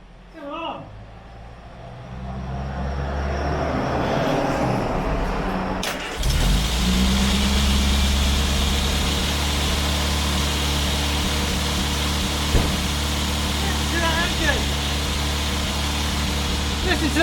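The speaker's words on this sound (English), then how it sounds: "Listen to the engine, sounds sweet as a nut." A barn-find Riley car engine cranks and catches on its first start, then settles into a steady, loud idle that runs on without a break.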